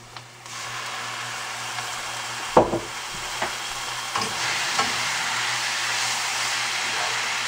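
Squash frying in olive oil with onion and garlic, a steady sizzle throughout with a few sharp clinks and scrapes of a utensil against the pan.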